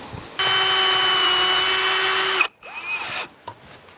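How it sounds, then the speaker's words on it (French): A power drill drives V1 screws from the inside through a corner U-channel into an insulated garden shed panel. A loud, steady whine runs for about two seconds, stops abruptly, then returns as a shorter, lighter burst. "je vais le visser avec les vis V1 par l'intérieur"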